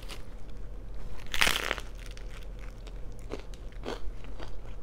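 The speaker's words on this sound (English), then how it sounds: "Let me add my chips, because you gotta add chips to the sandwich to make it crunchy" Crunchy bites into a Subway Veggie Delite sandwich stuffed with jalapeño potato chips, heard up close as a loud crackling crunch followed by steady chewing and softer crisp crackles, with no talking.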